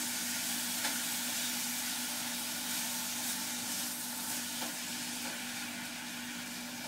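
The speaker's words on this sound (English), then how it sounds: "I'm cooking on high heat right now." Ground beef for a taco salad fries in a pan over high heat, producing a loud, steady, close sizzle with a constant hiss, occasional faint clicks and no talking.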